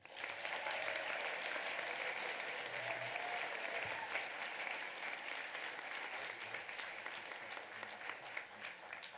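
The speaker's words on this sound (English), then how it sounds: "please join me in another round of applause" An audience at a senior day award ceremony for scholar athletes gives a continuous round of applause, steady dense clapping heard from a distance at a modest level throughout.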